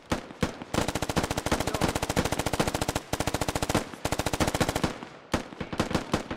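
Sustained machine-gun fire in the military shooter game Squad, long rapid bursts of loud, close automatic shots broken by brief gaps and a few single rounds, with no talk.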